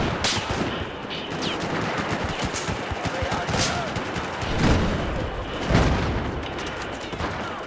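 Battlefield 4 gunfire rattles almost continuously in loud, close bursts of rapid shots mixed with heavier single cracks and booms, with no clear talking over it.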